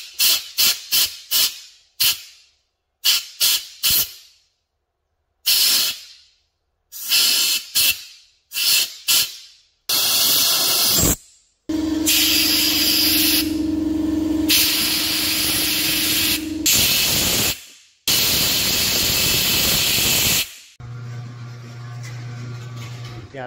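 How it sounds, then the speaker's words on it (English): A carburetor demonstration pushes fuel out through a small brass tube to atomize it, producing repeated sharp spray hisses in short bursts, followed by longer continuous hissing rushes with a steady lower hum underneath. "which is going to force the fuel out through that little brass tube, and it'll atomize the fuel"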